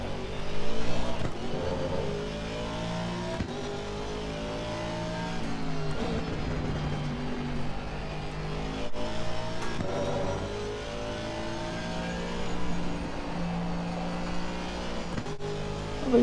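A race car engine in Assetto Corsa Competizione revs and shifts through gears for about sixteen seconds, rising and falling in pitch with repeated upshifts and the steady drone of the car under way.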